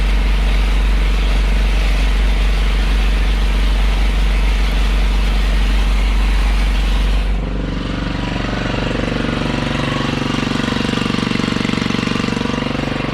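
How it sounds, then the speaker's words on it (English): Small gas-powered pump mounted on a planter, filling its tank with muddy water: a loud, steady engine drone with heavy low rumble that shifts to a smoother, slightly quieter running tone partway through. "Meg Riggs says I was the only person that would ever have thought to put a gas powered pump on a planter"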